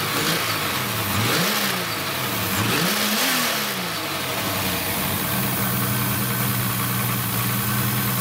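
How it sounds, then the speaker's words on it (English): A car engine with sequential ignition and D585 coils idles steadily and is revved twice in quick swells, then settles back into a smooth, even idle. "I'll give it a little bit of a rev for you."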